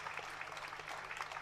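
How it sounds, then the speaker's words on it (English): An audience at a diploma convocation gives faint, brief applause, a soft wash of many hands clapping heard from a distance. "They need and they deserve a longer applause."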